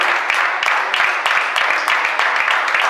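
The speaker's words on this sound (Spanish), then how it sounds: "Ponerle un aplauso fuerte al Señor." A church congregation applauding loudly, a dense burst of many hands clapping close by in quick irregular waves that lasts the whole moment.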